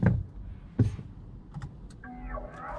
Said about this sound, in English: And now you hear this jingle, and that means the car is ready to roll